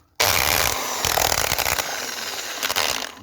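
A power drill runs continuously as it bores a mounting hole during a security system installation, a loud, steady motorised whine with slight speed fluctuations throughout, no one speaking.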